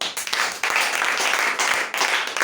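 A church congregation claps steadily through the whole stretch, a dense, loud wash of many hands with a few brief dips in intensity.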